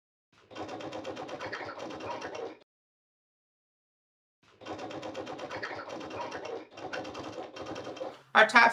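A sewing machine topstitches the bottom edge of a tote bag trim piece, running in two bursts of fast rhythmic mechanical chatter separated by a silent pause, then a brief handling clatter.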